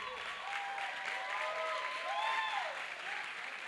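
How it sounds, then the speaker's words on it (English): Audience applause rises at a trampoline wall competition, a continuous faint spread of clapping from a crowd with scattered whistles and cheers over it. "Big round of applause for her."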